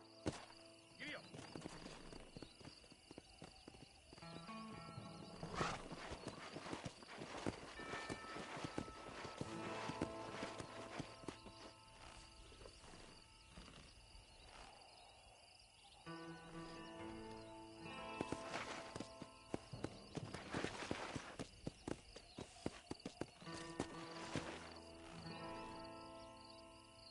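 Horse hooves clip-clopping at a gallop in Red Dead Redemption, a steady rhythmic beat over music with a voice speaking briefly.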